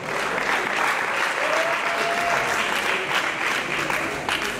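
A crowd applauds steadily throughout, a dense wash of clapping that stays loud and even from start to finish.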